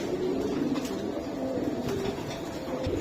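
Racing pigeons coo softly in a loft, low murmuring calls repeating over a steady background hum, with no talking.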